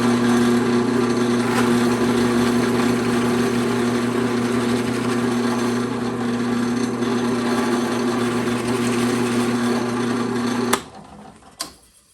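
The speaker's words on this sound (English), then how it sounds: "It does tend to melt the plastic as you're drilling" A steady, high-pitched whine of a drill boring through a plastic pinball playfield runs continuously, then stops abruptly, followed by a couple of sharp clicks.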